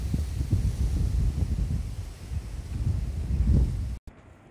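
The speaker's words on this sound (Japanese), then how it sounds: "かなり強風になっております。" Strong wind buffets the microphone on a highland plateau in spring, a loud rumbling gusty roar that swells and eases before cutting off abruptly near the end.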